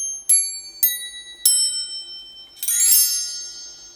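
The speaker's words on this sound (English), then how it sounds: "All these kind of shiny bronze bells. It's very heavy." Heavy, shiny bronze bells are struck by hand, three separate bright ringing strikes in a row and then a dense shimmering cluster of tones that rings on, clear and close with no talking.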